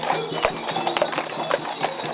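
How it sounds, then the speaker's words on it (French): Horses' hooves clip-clopping in a summer procession, with dozens of harnessed horses pulling a branch-decorated cart through a town in Châteaurenard, France; steady overlapping hoof strikes at moderate distance. "près de 60 chevaux étaient attelés devant la charrette ramée"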